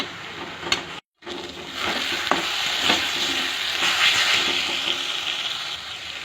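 Ginger, garlic and green chili paste frying in a pan with stirring, a steady close sizzle broken by occasional scraping strokes, with a brief cut near the start.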